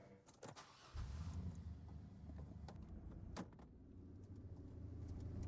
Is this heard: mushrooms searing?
no